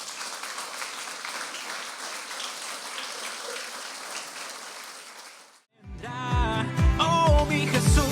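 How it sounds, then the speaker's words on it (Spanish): Church congregation giving loud sustained applause to the Lord, a dense wash of clapping for over five seconds that cuts off abruptly as a band with singing and drums starts up. "Dale un fuerte aplauso al Señor por eso."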